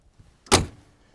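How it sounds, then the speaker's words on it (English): A single solid thump of a 1968 Mercury Park Lane Brougham car door shutting, close and sharp, with quiet surroundings before and after. "the doors close so nicely on the Ford products of this era"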